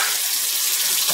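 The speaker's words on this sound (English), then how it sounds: "Rinse it out." Tap water runs steadily into a kitchen sink as something is rinsed out while making chicken fajitas, a continuous close hiss that stays even for its whole short length.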